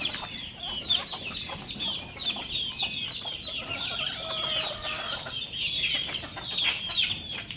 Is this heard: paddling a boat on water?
no